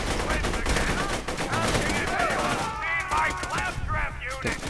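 Rapid bursts of gunfire ring out in the shooter game Borderlands 2, loud and dense with overlapping shots, while a voice speaks over the action.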